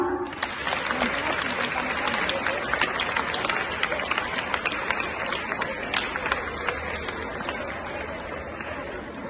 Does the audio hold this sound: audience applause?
yes